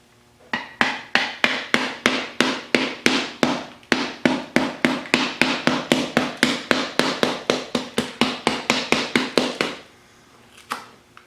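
Rapid, evenly spaced hammer blows on a hard concrete egg, about three or four per second for nearly ten seconds, then a pause and one last tap.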